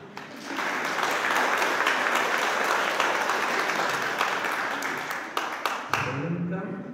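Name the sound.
applause at a wedding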